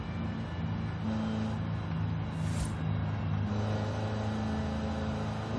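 A 1991 GMC Syclone truck engine in Forza Horizon 5 drones at a steady, loud pitch, with a brief whooshing swell partway through and no speech.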